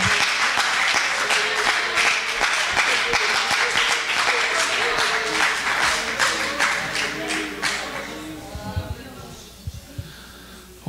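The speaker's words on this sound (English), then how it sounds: "Clap your hands to the Lord." A church congregation claps hands in worship, a loud, dense run of rhythmic clapping and applause that thins and fades toward the end.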